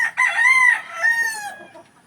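A rooster crows on a farm among hens, one drawn-out cock-a-doodle-doo with a rising, warbling middle and a fading tail, clear and close with no talk.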